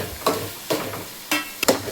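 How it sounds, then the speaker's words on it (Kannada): Egg tawa fry of onion, tomato, egg, turmeric and salt cooking in a pan: four brief scraping stir strokes over a faint frying hiss, close and fairly quiet, no voices. "ನಾನು ಇದು ಫ್ರೈ ಮಾಡ್ಕೊತೀನಿ."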